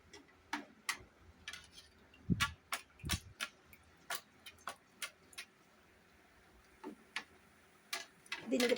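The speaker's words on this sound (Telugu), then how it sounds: "దీనికి తట్టడం వల్ల బూందీ ఇలా పడిపోతూ ఉంటుంది." A ladle full of boondi batter being tapped over hot oil, giving sharp irregular clicks and knocks spaced about a second apart, fairly close and quiet, with a louder cluster at the end.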